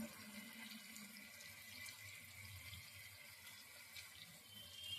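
Hands being washed under a running kitchen tap, a steady close stream of water splashing into the sink throughout, unbroken and fairly quiet, with no talking.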